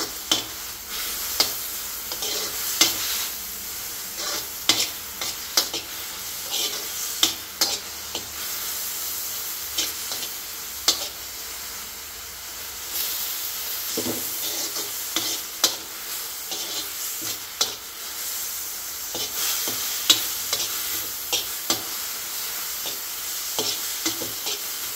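Food cooking in ghee keeps a steady bright sizzle and hiss while a spoon scrapes and stirs the pan at irregular moments, close and continuous, with no one speaking.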